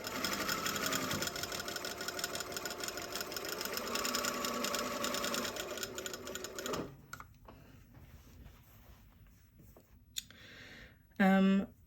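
A sewing machine runs in a fast, continuous mechanical rattle for several seconds, then stops, followed by quiet clicks and a short burst of talk.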